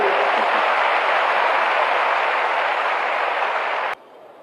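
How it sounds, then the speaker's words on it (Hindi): An audience at a formal Bihar police recruitment ceremony applauds in a steady, dense wash of clapping that holds for about four seconds and then cuts off abruptly. "ताली बजाइए, हंसिए।"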